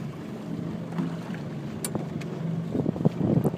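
A small fishing boat drifting on open Victoria waters on a calm day, with low wind rumble and faint lapping water, plus a few soft knocks and splashes near the end, and quiet music somewhere in the background.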